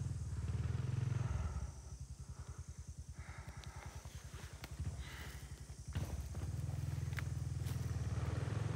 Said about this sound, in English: More revs. That's it. Keep the revs up.